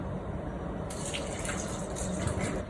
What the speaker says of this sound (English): Now we can add half of the milk